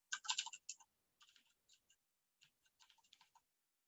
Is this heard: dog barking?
no